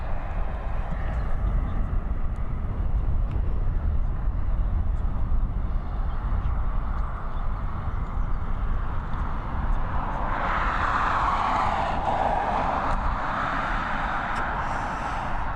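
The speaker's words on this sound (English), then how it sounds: "we've got Air France taxiing its way towards us" Air France Airbus A320 taxiing at Dublin Airport, a steady low jet engine rumble that swells with a brighter whine toward the end as the aircraft draws nearer.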